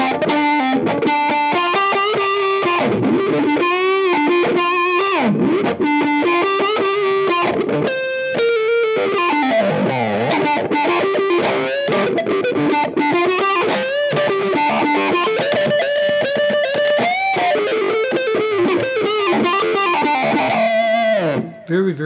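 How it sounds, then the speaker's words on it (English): Electric guitar through an Electro-Harmonix Micro Synth effect, with a synthy, sweeping filtered tone, gliding pitches and a dense buzzy texture, playing continuously and loud throughout. "This time he's got the electro harmonics micro synth effect on."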